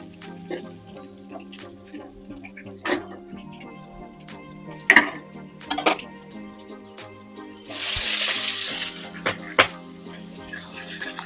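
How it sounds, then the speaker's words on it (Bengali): Giant freshwater prawns (golda chingri) frying in oil, a quiet sizzle with scattered clinks and knocks of utensils and a brief rush of running water midway. "তো বন্ধুরা এখানে আমরা বাকি চিংড়িগুলো ভেজে নিই।"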